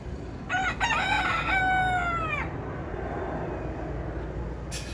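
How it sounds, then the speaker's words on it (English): A rooster crows once in Key West, Florida, loud and close, a long drawn-out call over steady background noise. "This rooster is wanting to wake you up."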